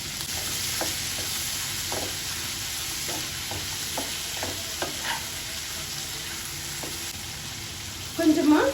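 Onions, tomatoes and dried chillies sautéing in a pan give a steady, loud sizzle, with light scattered clicks of stirring throughout and a brief clatter near the end.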